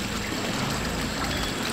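Steady rush of water flowing from a public drinking fountain beneath a statue on a square in Bern, Switzerland, heard up close as a continuous splashing stream with no talk.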